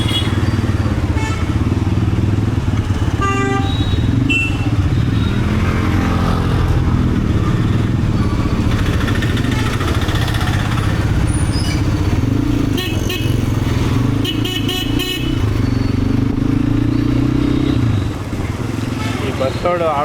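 A motorbike engine runs on a rainy day outing with kids, a loud continuous low rumble with clattering and surging revs. Voices talk over it throughout.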